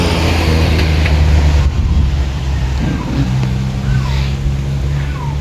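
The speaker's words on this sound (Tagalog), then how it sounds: "Tabing kalsada tayo guys, kaya maingay." Steady roadside traffic rumble at an outdoor plant stall beside a road, cars passing close by in a continuous loud wash with occasional engine surges.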